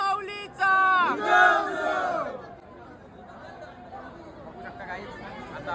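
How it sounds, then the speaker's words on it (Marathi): A large, dense crowd of devotees packs Ekvira temple, with loud chanting and shouted calls rising over a steady babble of many voices that later settles into a continuous hubbub. "जाम गर्दी आहे की जाम गर्दी आहे"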